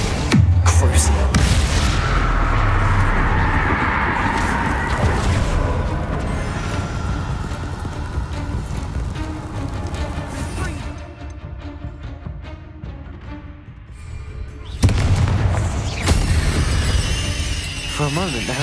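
Magic spells from the video game Hogwarts Legacy, including Confringo and Bombarda, burst in a long stretch of loud, rumbling booms and crashes. The blasts ease for a few seconds, then surge again, with voices shouting over the din.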